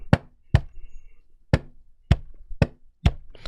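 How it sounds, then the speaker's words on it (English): Hands banging on a desk in a beat pattern, processed with a crushing effect: six sharp, punchy knocks in an uneven rhythm, close and loud with nothing else around them. "I was just banging on my desk and I made this pattern"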